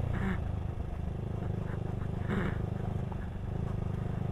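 A motorcycle rides along a dusty dirt road at dusk, its engine droning steadily and close with a low, even rumble and a couple of faint rattles.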